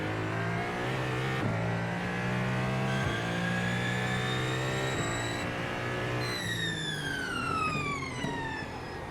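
A hypercar's engine revs in a racing video game at Imola, with a loud, continuous whine climbing through gear changes, with rising and falling pitch sweeps and no talk over it.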